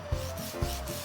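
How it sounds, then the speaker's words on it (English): A sanding sponge rubs over the curved surface of a resin helmet in two short back-and-forth strokes, a soft, close, dry scraping. "This one I use a sanding sponge, because there's some curvature there"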